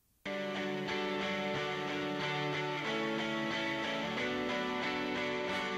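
Layered electric guitars play alone as part of a song arrangement, a dense sustained harmonic chord texture that starts abruptly and holds steadily loud, shifting chords every second or so with no voices.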